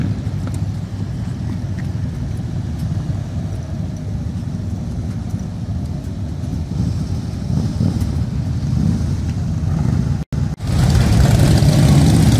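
Several motorcycle engines idling together at the Sturgis motorcycle rally, a steady, loud low rumble that holds evenly throughout with no talking.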